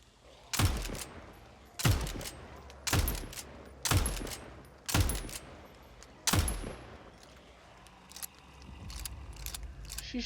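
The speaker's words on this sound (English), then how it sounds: "She's shooting over here for some reason." Six sharp, evenly spaced shots from an enemy in the game Nightingale, set in the Magwytch Marshes, each one ringing out with a decaying tail before a quieter stretch of ambient rumble.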